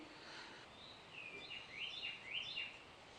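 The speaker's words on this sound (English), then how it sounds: "Hear the birds chirping in the background?" Faint birds chirping outdoors, several short tweets and trills in a row against soft steady background noise.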